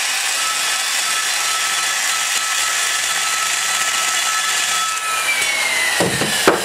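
A valve seat is cut in a small-block Chevy ProComp 190cc cylinder head for a 60 and 30 degree valve job: a steady whirring hiss, then a few short, sharp scraping bursts near the end, with no talk.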